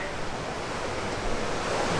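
Seawater surges inside a sea cave near San Diego, a steady broadband wash of surf echoing close by, with a slight swell toward the end and no talking.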